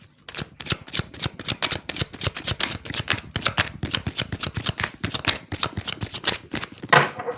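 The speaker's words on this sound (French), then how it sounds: "nous allons prendre tout de suite une carte tendance pour votre mois d'avril" A deck of tarot cards is shuffled close up in a quick, continuous run of crisp riffling flicks and slaps with no talking.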